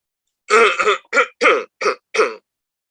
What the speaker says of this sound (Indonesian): Maaf, saya agak batuk.